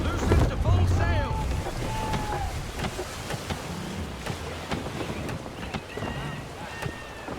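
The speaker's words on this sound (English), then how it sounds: "Gusty winds can be difficult to manage." Gusty wind rushes over open sea while a sailing ship plows through waves in Assassin's Creed III, with steady broadband roar, creaking and faint whistling tones throughout and voices speaking over it.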